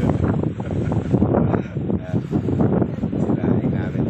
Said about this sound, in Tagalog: Lakas ng hangin, mga kapatid.